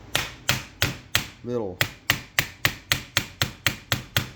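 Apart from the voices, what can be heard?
plastic hammer tapping MP5 lower receiver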